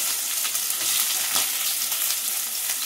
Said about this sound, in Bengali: তেলটা গরম হয়ে গেছে, এর মধ্যে দিয়ে দেবো আমি পেঁয়াজের কুচি